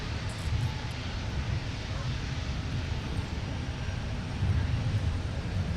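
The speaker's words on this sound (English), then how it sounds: "here's the ATR 42 feeder for Mountain Air Cargo on the north side, coming in from Duluth, Minnesota. Runway 17, clear for takeoff." An ATR 42 turboprop cargo plane taking off from an airport runway, a steady low engine roar held at an even, moderately distant level, swelling slightly near the end.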